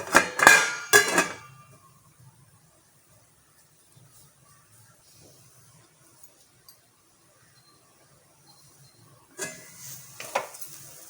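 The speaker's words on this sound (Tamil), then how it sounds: "மூடி வச்சுக்கலாம்" Clattering metal knocks as a lid is set on a pot of cooking valakkai puttu, a loud cluster at the start, then near silence before more clinks and rattles at the end.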